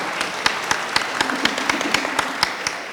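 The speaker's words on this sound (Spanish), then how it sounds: "Damos un aplauso a Andrea" A small audience at an education panel on learning in the digital age claps for a speaker, giving distinct, sparse individual claps in an uneven rhythm rather than a full ovation, fairly close and without talk.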